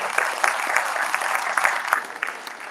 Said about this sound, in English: That just deserves a round of applause.